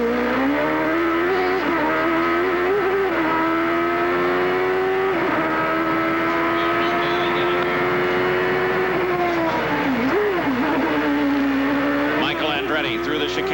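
A 1992 IndyCar race car at the Daikyo IndyCar Grand Prix in Australia accelerates hard out of a corner, engine howling loud and continuous with pitch climbing and dipping through gear changes, a race commentator talking over it.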